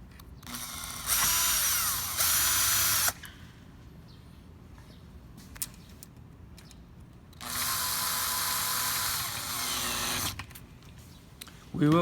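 Power drill driving a pin bolt back into the double D ring of a DTP fabric terrace frame during installation: two loud bursts of whirring buzz, each lasting a few seconds, with quiet handling noise between them.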